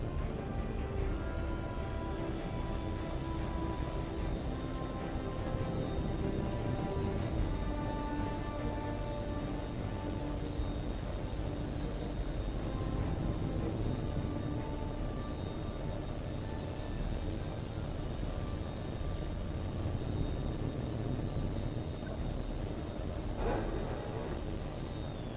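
A fighter jet in HAWX 2 spools up for takeoff with a loud, steady roar and a high rising whine that holds throughout, ending in a brief burst of sharper noise.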